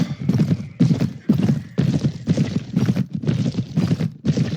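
A horse gallops in the video game Mount and Blade Perisno, its hooves a steady, loud, close clip-clop of repeated beats with a soft rushing noise behind, no voices.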